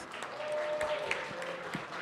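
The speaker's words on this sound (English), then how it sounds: "Can we give them a round of applause, and mentors?" Audience applause at a 2024 symposium honoring scholars and mentors, a steady wash of many hands clapping indoors, sustained throughout with a faint tone and scattered voices underneath.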